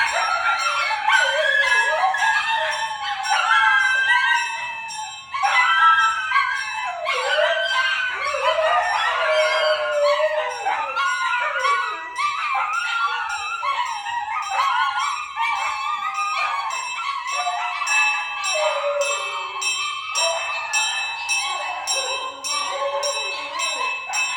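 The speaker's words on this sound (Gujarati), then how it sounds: "આ દરમિયાન શ્વાનોનો ભસવાનો અવાજ એમ કહે છે કે તેઓ પણ ભગવાન સામે પોતાની પ્રાર્થના વ્યક્ત કરે છે" Street dogs at a village temple in Magod howl and bark steadily during aarti, overlapping wails filling the whole stretch, with temple bells ringing alongside.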